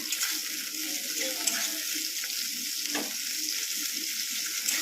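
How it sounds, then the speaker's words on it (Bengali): Spices and onions frying in a pan for mutton khichuri, a steady bright crackling sizzle that runs without a break at a moderate level, with a soft clink or stir near the middle. "মশলা করে দিয়ে দিচ্ছি আর এখানে দিয়ে দিচ্ছি লঙ্কার মতো আর মশলাটা দিয়েছি ভাজতে"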